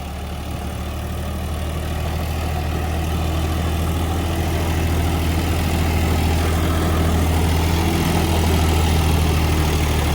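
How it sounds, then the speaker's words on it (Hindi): A John Deere tractor engine drones steadily under heavy load while pulling an 8-foot rotavator through dry field soil, a loud, continuous low rumble that swells slightly over time with no talk. "सूखे में भी देख लो मट्टी बराबर लेकर ट्रैक्टर चल रहा है"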